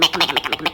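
A voice imitates a frog croaking with a rapid run of about six clipped, repeated syllables in under a second, close and clear.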